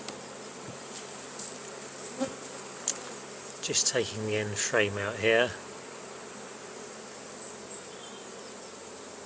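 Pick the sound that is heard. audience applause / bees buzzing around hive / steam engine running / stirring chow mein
bees buzzing around hive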